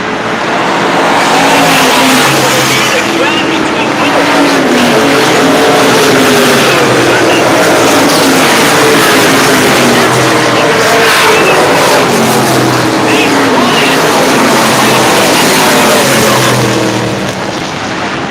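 A race car at the Lancaster track roars past loud and close, engine note rising and falling through gear changes over a continuous high-volume drone, with a track announcer talking over it.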